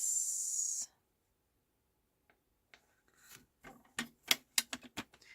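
Paper being cut for a handmade diagonal flap-fold card, heard as a run of crisp, close snips and rasps that grow louder and quicker toward the end, with no talk.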